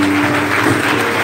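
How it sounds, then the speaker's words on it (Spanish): Church congregation clapping loudly together in a dense, continuous burst of applause, close and full, with faint voices mixed in. "En el nombre de Jesús, dale ese aplauso fuerte al que vive."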